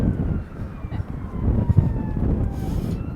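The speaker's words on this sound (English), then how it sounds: "I hear a siren going in the background there" An emergency vehicle siren wails faintly in the distance along a street in Dartmouth, its rising and falling tone partly buried under wind and nearby footsteps.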